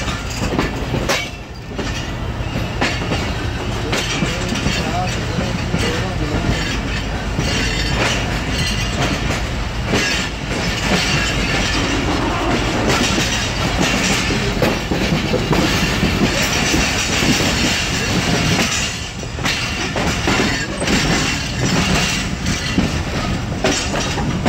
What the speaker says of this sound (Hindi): हमारी ट्रेन ने निकलना शुरू कर दिया है। तो चलें अब आप लोग ट्रेन के आखिरी डब्बे से ट्रेन को रोहड़ी से निकलते हुए देखें